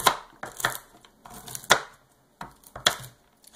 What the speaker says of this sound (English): just give them a coarse chop good